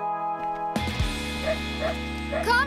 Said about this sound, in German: haben Sie zufällig einen kleinen braun-weißen Hund in der Nähe gesehen?